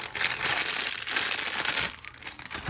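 Plastic bag crinkling and rustling close by, a steady crackly handling noise over a few seconds.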